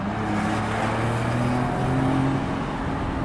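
A 2023 Porsche 911 992 Carrera Cabriolet accelerates along a coastal road in Hawaii, its engine tone climbing steadily under constant loud wind and road roar.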